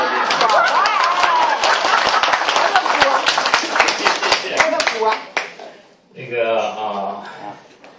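Thin clapping from only a few people at a medical conference rattles on under a speaking voice for about five seconds, then stops as talk continues.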